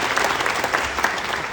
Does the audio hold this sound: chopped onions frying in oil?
no